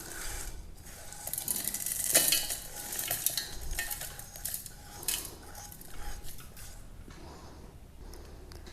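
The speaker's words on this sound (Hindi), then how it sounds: "अब हम एक जार ले लेंगे और इन मसालों को उसमें डाल देंगे।" Roasted whole spices for a homemade masala tipped from a pan into a grinder jar, with a run of light scraping, rattling clinks and spoon stirring against metal, fairly close and steady with no talk.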